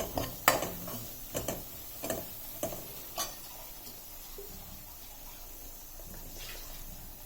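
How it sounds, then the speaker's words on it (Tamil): Masala cooks in oil in a pan for a Tamil chicken curry while a spoon stirs it, making several metallic clinks and scrapes early on that fade into a quieter, faint sizzle. "எண்ணெயிலே வதங்கணும். சிம்லே வச்சு நல்லா வதங்க விடுங்க."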